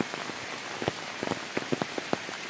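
Rain falls in a coastal hill village beside a wild forest, a close, dense patter of scattered drops striking wet surfaces, with no voices, over about two and a half seconds.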